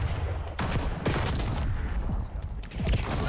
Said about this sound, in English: Shooting guns at us.